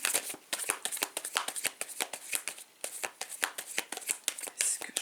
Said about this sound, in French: On prend les cartes, on regarde.